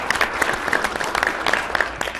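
Audience at a town hall discussion on the Affordable Care Act breaking into applause, uneven clapping with sharp individual claps and a few voices or cheers mixed in, moderately loud in a hall.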